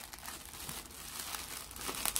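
Parcel packaging crinkling and rustling close by as it is unwrapped by hand, in soft irregular handling sounds with a few sharper crackles near the end.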